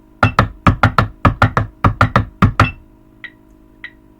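A high school drumline plays a check pattern across the drums, ten sharp evenly spaced strikes in a quick steady rhythm, loud and close, followed by two faint lighter taps.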